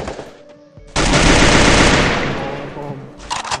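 Rapid automatic gunfire in the Free Fire battle game, a loud sustained burst lasting about two seconds that tapers off, with quieter shots before and after and no talking over it.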